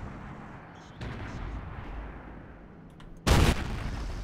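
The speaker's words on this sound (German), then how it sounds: "Ich glaube, er schießt. Er hat geschossen." A tank cannon fires in World of Tanks: a low rumbling background, then one loud, sharp blast that booms and lingers briefly.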